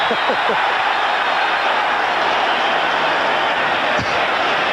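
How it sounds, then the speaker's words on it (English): A loud, enthusiastic football crowd at RFK Stadium, a dense continuous roar filling the whole stretch, with a few sharp thuds and a commentator talking over it. "because of this very loud and enthusiastic crowd here at RFK Stadium, look out"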